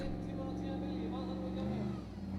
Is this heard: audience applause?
no